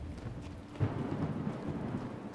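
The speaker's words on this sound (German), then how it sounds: "Jetzt regnet es wieder, aber es wird langsam heller, ne?" Steady rainfall with a low rumble of thunder swelling near the middle, heard in the video game The Talos Principle; a continuous wash of storm noise with no voices.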